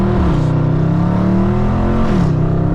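A Dodge Scat Pack's V8 engine accelerating hard on a warm-day drive, loud and close with a rising, then falling rev pitch and a brief shift dip, steady throaty roar throughout.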